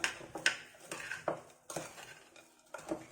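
Rice with nuts being stirred in a baking dish, a spoon scraping and clinking against the dish in irregular strokes, close and fairly quiet.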